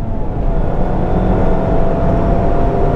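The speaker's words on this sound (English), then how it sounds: "Now the start and finish straight again, waiting to brake for the next corner." A Mazda MX5 ND2 runs down the start-finish straight at Croft circuit, its engine a steady, loud drone from inside the cabin with no breaks and no talk.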